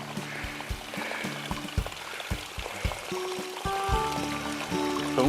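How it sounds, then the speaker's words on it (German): A small trickling mountain stream runs steadily on a hiking trail, a continuous watery babble heard close with some irregular knocks and thumps in the foreground. "haben wir hier noch ein"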